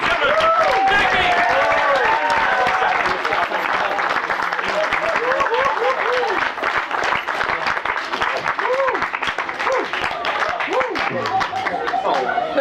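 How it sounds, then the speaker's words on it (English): An audience at a Seventh Day Adventist camp comedy and magic show applauds steadily for Jackie, a dense, loud wash of clapping with cheers and laughter mixed in. A voice also talks over it. "Let's give her a big round of applause, ladies and gentlemen."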